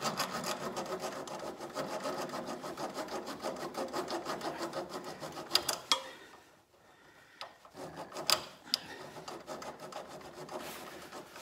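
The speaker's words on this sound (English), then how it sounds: "You can even file it a little bit, just be careful." Metal file rasping on a broken 420 drive chain link from a snowblower, with quick rhythmic back-and-forth strokes close by, a short pause, then a few more scrapes, with no talk.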